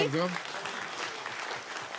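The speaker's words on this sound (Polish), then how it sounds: "Duże brawa dla pana posła, że był z nami." Studio audience applause for a departing guest on a Polish TV talk show, a steady bed of moderate clapping that follows a brief vocal sound at the start.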